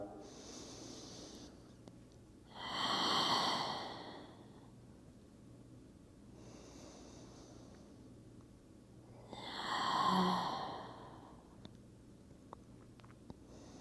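Slow, deep yoga breaths in a Yin session using a strap, two long audible exhales several seconds apart, close and soft with quiet pauses between.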